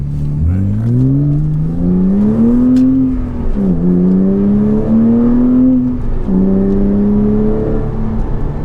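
A 2006 Porsche Cayman's engine revs hard in third gear, pitch climbing steadily in long pulls with brief dips between them, loud and close from inside the cabin.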